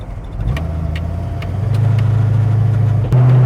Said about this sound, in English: we're driving our Mustang